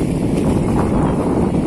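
Loud, blustery wind roars across the microphone in a continuous rumble, with a faint washing of river waves beneath it, on the Amur River embankment in Khabarovsk, Russia.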